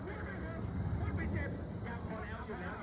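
A military fighter jet roars past at an air show in the Don Mueang area, a loud, continuous broadband engine rumble filling the whole stretch, with people talking underneath.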